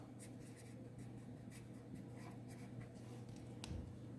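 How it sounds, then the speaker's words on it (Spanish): Handwriting SOHCAHTOA during a trigonometry lesson: soft, scratchy pen strokes in short irregular bursts, close and quiet over a steady low hum. "Entonces, escribo SOHCAHTOA"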